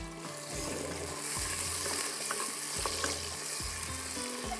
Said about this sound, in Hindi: हल्का सा ये प्याज ब्राउन हो रहा है